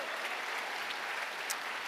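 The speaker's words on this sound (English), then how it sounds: "Let's give them a big round of applause." A crowd claps steadily for the volunteers at a heritage awards ceremony, soft and somewhat distant, a continuous patter of many hands with no voices over it.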